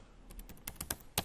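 Keys on a computer keyboard are tapped in a quick, uneven burst of about a dozen soft clicks, quiet and close, with no voices.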